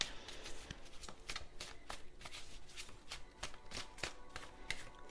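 A deck of Tarot of the Angels cards riffled and shuffled by hand in steady rapid bursts of papery flicks, close and continuous, without talking.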